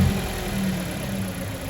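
A warmed-up Nissan Micra K11 engine idles with freshly changed spark plugs and a relocated air filter, giving a steady, close mid-pitched hum that holds evenly throughout with no voices.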